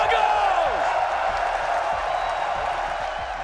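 Crowd at an esports major semi-final event, a broad roar of cheering and whooping from a large arena audience, steady and loud throughout with a faint voice mixed in.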